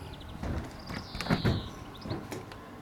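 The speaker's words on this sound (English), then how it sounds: "Usual procedure, up the steps and in the door." Door of a 2016 ABI Ambleside caravan opens with a short latch click and a soft rattling slide, a few brief knocks and creaks close by against faint outdoor wind.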